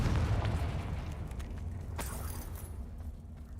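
A Confringo fire spell blasting in Hogwarts Legacy: a deep rumbling boom at the start that rolls off into a fading low roar with faint creaks and crackles.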